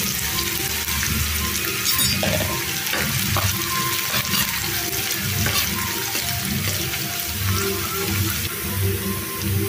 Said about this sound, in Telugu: సన్నగా కట్ చేసిన ఉల్లిపాయలు వేసేసి వీటిని దోరగా ఫ్రై చేసుకోవాలి.